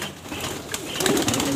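Breeder pigeons in a cage give a brief, fairly loud burst of cooing and rustling close by, with no voices.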